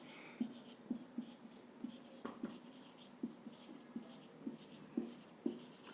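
Someone writes a word on a board in short, evenly spaced strokes, giving a light rhythmic tapping and scratching that stays close and fairly quiet.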